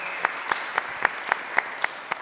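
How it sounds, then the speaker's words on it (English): A lone, faint burst of claps rings out in a steady rhythm of about eight even strikes over a low room hiss, in thanks to host Christoph and Evil Empire at a creators' brand event. "Let's give them a round of applause"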